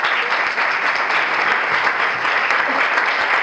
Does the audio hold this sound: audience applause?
yes